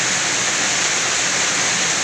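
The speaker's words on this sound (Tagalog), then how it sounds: "Lakas ng ulan." Heavy rain pours down in a steady, loud, unbroken hiss close by, with no voices.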